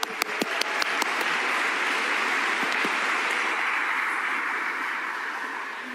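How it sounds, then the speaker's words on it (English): Steady, sustained applause from a school audience at a Christmas concert, a dense wash of many hands clapping at once, loud and even throughout with a few sharp nearer claps at the start. "let's applaud."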